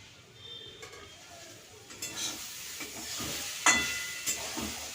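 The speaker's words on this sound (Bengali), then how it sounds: "আমার শাকটা ভাজা হয়ে গেছে" Karmi shak greens frying in a pan give a faint, steady sizzle with a few soft stirring scrapes and one sharper clink partway through.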